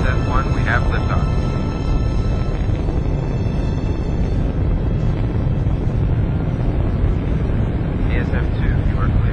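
A sleeper ship lifting off in the Freelancer game intro gives a dense, steady, loud rumbling roar that fills the whole stretch, with faint radio-style voices over it.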